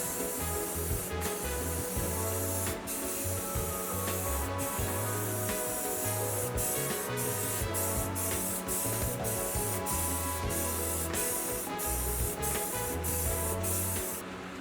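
Steady close hiss of a spray gun laying a third white coat of paint on a vintage police car, continuous for the whole stretch with faint background music underneath and no talking.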